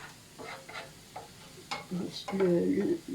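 Garlic sizzles as it fries in a pan, with soft stirring scrapes. The crackle grows louder and denser toward the end, heard close up with no talking.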